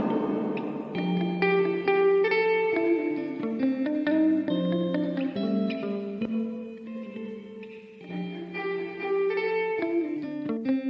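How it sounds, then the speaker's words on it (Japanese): Guitar played through an Elektron Analog Heat +FX processor with reverb, with compressor and clean boost also on: sustained melodic notes and chords ringing out with a lush, echoing tail, played alone without talk. "リバーブ、"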